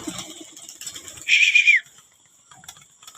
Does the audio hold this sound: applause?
no